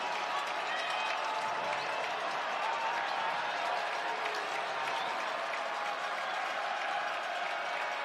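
A stadium crowd at a Buffalo Bulls at Northern Illinois college football game roars continuously, a dense, distant wall of cheering and clapping that holds steady with no break.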